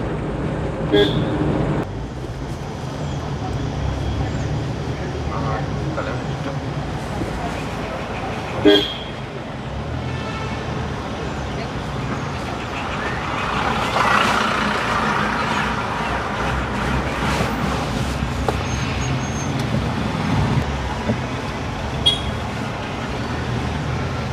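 A car cruises in fifth gear on a flat stretch of road at the foot of a mountain descent, with a steady engine and road drone inside the cabin and a brief horn toot partway through.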